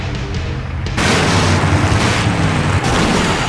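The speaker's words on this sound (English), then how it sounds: "Now that's an explosion, ladies and gentlemen." A loud explosion in the video game Full Throttle hits suddenly after a quieter moment and settles into a heavy, sustained rumbling roar that lasts several seconds, with no talk.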